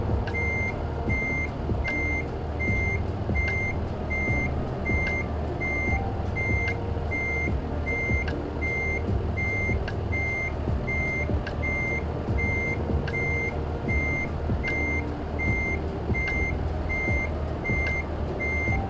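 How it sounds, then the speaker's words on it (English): A truck reversing in American Truck Simulator gives a steady run of evenly spaced electronic beeps over a loud, continuous diesel engine rumble, going on the whole time. "Sorry about the beeping. It'll be over soon."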